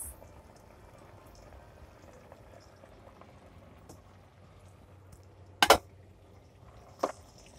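Homemade French fries bubbling in hot oil on a sailboat galley stove, a soft steady sizzle with two brief sharp clatters near the end.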